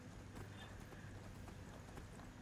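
A horse's hooves clip-clop steadily in the video game Skyrim, a quiet regular rhythm of soft hoof falls with no talking.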